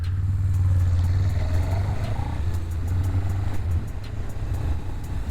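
Suzuki GS500 motorcycle ridden on a road with gear changes, its engine a steady close drone that rises and falls slightly as it shifts down, with continuous wind and road noise.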